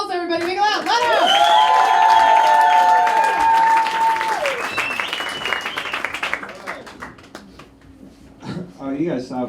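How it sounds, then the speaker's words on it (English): A comedy club audience claps and cheers as a comedian is introduced, with loud whoops and shouts over dense applause that gradually thins out, and a voice talking near the end. "Oh, you gotta stop clapping real quick."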